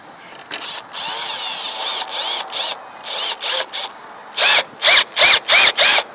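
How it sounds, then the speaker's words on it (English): A power drill whirs in several bursts, first longer runs, then five short loud pulses close by, with no voices. "And you're going to need a drill."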